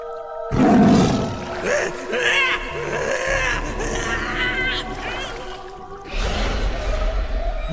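A deep, drawn-out roar attributed to a tiger rises loud and close, with wavering tonal growls and dramatic layered sound behind it, then a second swell of rumbling noise near the end; no speech is heard.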